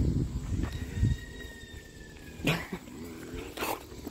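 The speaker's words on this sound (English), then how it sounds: "This is the puppy everybody wants." A puppy growls low and gives a couple of short, sharp yaps up close, with scuffling noises in between.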